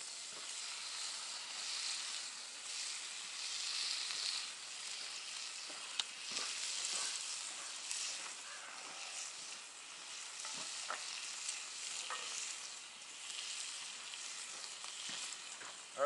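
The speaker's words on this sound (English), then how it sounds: "I thought I'd cook up some bacon and use the bacon grease" Bacon sizzles and spatters steadily in a pan at a creek-side campsite, a continuous close crackle with scattered sharper pops throughout.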